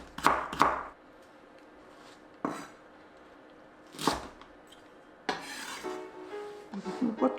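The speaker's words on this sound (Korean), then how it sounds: "이것도 양파 길이로 잘라줄게요" A knife slicing onion lengthwise on a cutting board while making perilla leaf kimchi: a few separate crisp cutting strokes with soft board knocks and quiet gaps between, close and fairly faint.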